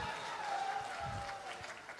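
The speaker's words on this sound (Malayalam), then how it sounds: "നിങ്ങളുടെ എല്ലാവിധ പ്രോത്സാഹനങ്ങളും പ്രതീക്ഷിച്ചുകൊണ്ട് എല്ലാവരും ആത്മാർത്ഥമായിട്ടൊന്ന് കൈയടിച്ചേ" Audience applause at a live Malayalam comedy stage show: steady, even clapping from a crowd that fills the whole moment at a moderate distance, with no voices rising above it.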